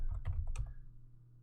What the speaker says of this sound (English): it helps if the keyboard actually types the words here